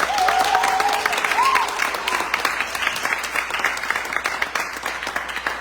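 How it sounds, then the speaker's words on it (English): Audience applauding and cheering at a book launch, a loud round of many hands clapping with whoops and shouts rising over it early on, then settling into steady clapping. "can we give a round of applause to the folks that are producing this thing?"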